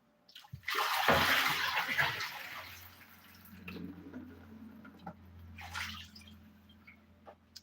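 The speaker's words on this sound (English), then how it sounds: "Let them drain a little bit like this." Water pours out of a container of soaked corn husks being drained for tamales, a loud splashing gush that tapers into trickles and scattered drips, with a second smaller pour near the end.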